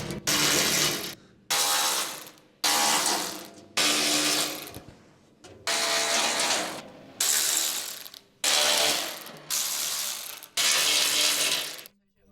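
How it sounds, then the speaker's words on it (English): An electric impact driver with a 4mm hex socket removes the side panel bolts of a UTV, running in about eight loud, close, rattling bursts of roughly one second each, separated by brief pauses. "Use your 4mm H4 hex socket on your electric impact to remove all of the side panel bolts."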